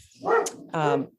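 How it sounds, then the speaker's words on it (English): A pet dog barks twice in close succession indoors, short and fairly loud against a quiet background, with no talking over it. "that's my dog"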